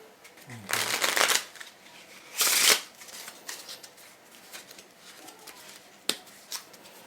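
Playing cards from a Monarchs and Crowns deck riffle and shuffle in two loud bursts, with lighter handling snaps and flicks after them, and no talk.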